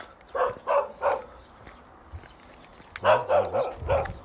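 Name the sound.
dog barking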